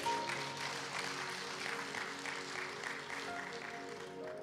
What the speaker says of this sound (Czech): Toto si zaslúži jeden potlesk, čo robil Pán Ježiš.